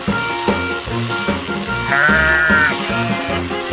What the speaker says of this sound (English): Mario, hold the sheep.